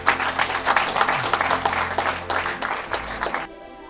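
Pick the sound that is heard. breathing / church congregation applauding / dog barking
church congregation applauding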